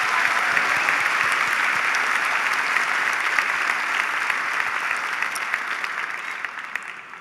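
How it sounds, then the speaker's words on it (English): A university commencement crowd at an undergraduate graduation ceremony claps for award recipients, a thick, even wash of applause that holds steady, then thins and fades toward the end. "Let's applaud this extraordinary group."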